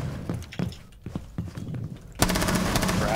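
Rapid automatic gunfire from a Rainbow Six Siege match rattles in bursts, starting with scattered clacking shots and then a loud, dense stream of fire near the end.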